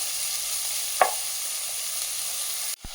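Onions fry in a pan with a steady close sizzle, broken by a brief scrape of stirring near the start and a sharp knock near the end; no one speaks.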